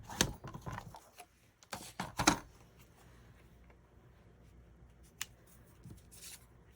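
Scissors snip through a photo for a scrapbook layout, a few close crisp cuts bunched early, then quieter handling and a lone snip later.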